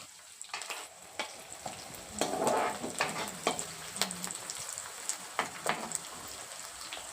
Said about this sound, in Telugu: ఆయిల్ హీట్ ఎక్కింది. ఇప్పుడు ఆనియన్స్ ఇంకా మిర్చి వేసేసుకుందాం.